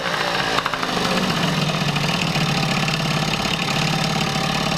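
An MBK 51 moped engine, its carburettor running slightly rich, fires up and settles into a steady, close two-stroke idle. The rapid puttering stays even and loud throughout.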